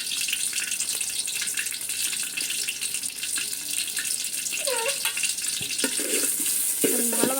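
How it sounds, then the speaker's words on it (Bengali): Onions and a dried chili sizzling steadily in hot oil in a village kitchen, a loud continuous frying hiss up close, with faint clinks of utensils stirring. "তেলটা গরম হয়ে গেলে আমি এখানে পেঁয়াজ দিয়ে দিব, একটা শুকনা মরিচ দিয়ে দিব।"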